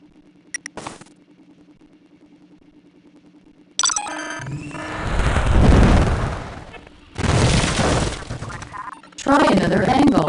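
A rocket launch in the EDMARK Space Academy GX video game: a few sharp clicks, then several loud, roaring bursts of synthetic rushing noise that surge and cut off in turn.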